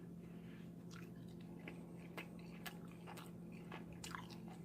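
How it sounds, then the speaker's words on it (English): Someone eats a soft, dense, chewy 100% whole wheat sourdough pancake, with close, quiet bites and wet chewing repeating irregularly over a steady low background hum. "I'm going to eat a little bit off camera."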